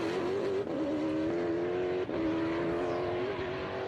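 Race cars, including a Ford GT40, lap the circuit at Sebring, Florida, with a loud, steady engine drone that holds a strong pitch with small dips and swells as they pass. No talk.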